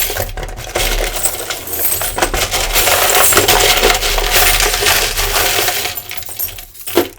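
Small divination charms of mixed sizes poured and rattled, a dense continuous stream of clinking and tinkling close by that swells, then trails off into a last sharp clatter.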